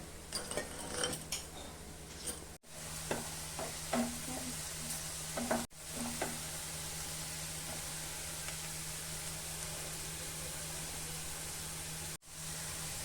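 Onions frying into crisp birista for Bengali chicken korma, a steady sizzle with scattered spoon scrapes and clinks of cookware in the first half, then an even frying hiss with a low hum underneath.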